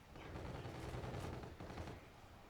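A dense burst of rapid gunfire rattles continuously for a couple of seconds, muffled and heavy, automatic weapons firing in a Call of Duty esports match.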